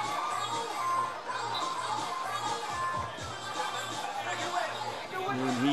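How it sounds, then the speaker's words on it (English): Stadium crowd at a Morocco versus Ghana football match roars and applauds a goal, a dense, steady wash of cheering and chatter heard with commentary over it. "And he takes the applause"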